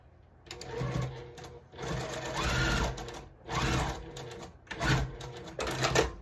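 A sewing machine re-stitches a quilt block seam in several separate bursts of running stitches with short pauses between, close and steady.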